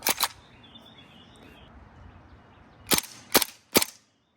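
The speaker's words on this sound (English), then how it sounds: "we're outside for the firing test, and we want to see if it can cleanly empty a mag full of BBs on semi and full auto without any jams" A GHK AK74MN airsoft rifle fires BBs outdoors: a quick pair of sharp cracks, a quiet pause, then three spaced loud snapping shots close by.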